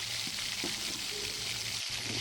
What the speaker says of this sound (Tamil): இப்போ இதில் இஞ்சி பூண்டு பேஸ்ட்டு சேர்த்து அதுவும் நல்லா பச்சை வாசனை போகிற அளவுக்கு வதக்கிக்கணும்